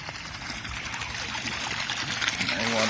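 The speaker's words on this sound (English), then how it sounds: "More water coming out." Floodwater on a flooded residential street in Aylmer trickles and splashes in a steady close wash that slowly grows louder, with voices faintly under it.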